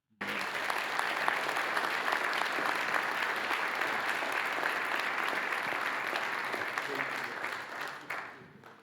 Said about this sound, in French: je vous propose de les applaudir une nouvelle fois.